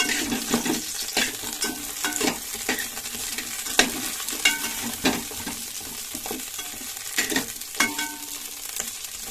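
Brinjal masala cooking in oil, a continuous busy sizzle with repeated sharp scraping and stirring strokes at an uneven rhythm, close and fairly loud, with no speech.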